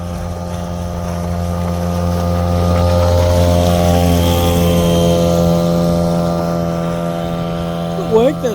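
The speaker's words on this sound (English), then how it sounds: "It's not the most quiet motor ever, but it's certainly not the loudest." Outboard motor running on an Ascend 128T kayak, a steady droning hum with strong engine tones and some wind rush, close and loud throughout, with a brief voice near the end.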